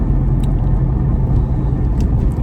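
A Porsche 997 cruises gently through town in sixth gear, its low engine and road rumble droning steadily and loudly from inside the cabin with no talking.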